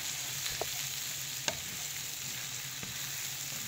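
Biryani frying in a kadai over a low gas flame, a steady soft sizzle throughout with a few faint scraping stirs.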